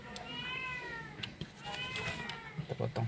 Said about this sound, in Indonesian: di luar ada kucing mau minta makan karena pagi-pagi